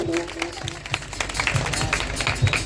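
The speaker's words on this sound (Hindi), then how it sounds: "जोरदार तालियों का स्वागत होना चाहिए भक्तों" Devotees at a village religious gathering applaud in welcome, a continuous crowd clapping with scattered sharper claps and murmuring voices mixed in.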